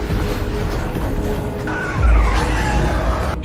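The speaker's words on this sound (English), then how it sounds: "He erupts in rage, yelling at her and violently forces her off the road." A car skids as it is forced off the road in rain, a loud, sustained rush of tires and engine that swells into a deeper roaring slide partway through, alone without voices.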